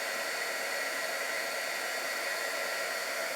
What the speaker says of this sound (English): It's a hairdryer with a bit of a nozzle on the end